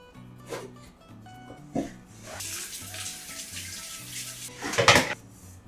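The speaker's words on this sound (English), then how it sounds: "Now can you wash my hands?" Running tap water splashes over a child's egg-sticky hands at a kitchen sink, a steady mid-level wash with a louder gush near the end, under soft background music.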